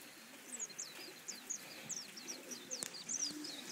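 A run of repeated bird calls and chirps comes from pigeons at a backyard loft in Puna, Hilo, Hawaii, moderately close and steady over quiet outdoor ambience.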